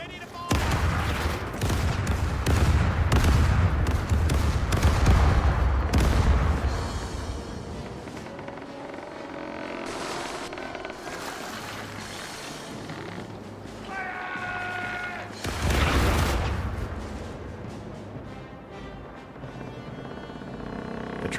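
Ship cannons fire a broadside in the naval game Caribbean Legend: a long, heavy volley of rolling booms, then creaking timbers and quieter effects, then another loud cannon blast near the end.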